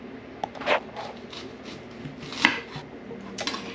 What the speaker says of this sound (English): we're gonna start off by cutting up some red onions